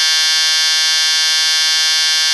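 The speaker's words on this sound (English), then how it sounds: "the horn." Horn of an Atlas S gauge Master Line Gold Series model locomotive, sounding as a loud, steady electronic tone held unbroken for a couple of seconds with no talk.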